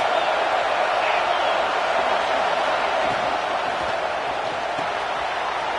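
Stadium crowd roaring in an NCAA college football video game, a constant dense wash of cheering noise held at a steady level throughout, loud and unbroken.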